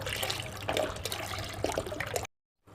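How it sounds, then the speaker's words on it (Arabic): Liquid milk poured from a container into a pot, a close, steady splashing and gurgling stream that stops abruptly after about two seconds. "بحط الحليب السائل في صفرية وبصحنه"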